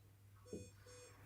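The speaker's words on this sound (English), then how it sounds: "That's our alarm, checking our alarm's working at the back." A Poseidon closed-circuit rebreather sounds its rear alarm during a pre-dive check, giving a short, faint electronic beep over a low steady hum, followed by a softer second tone.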